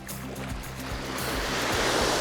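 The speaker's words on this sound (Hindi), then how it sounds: "पानी जब लहरें वापस जाती हैं तो आपके पैरों के नीचे की मिट्टी को वो साथ में ले जाती हैं।" Ocean surf washes onto the beach at Gokarna, Karnataka, a steady rushing roar of waves with a faint low rhythmic thumping underneath, building slightly toward the end, with no voices.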